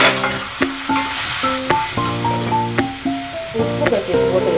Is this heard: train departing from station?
no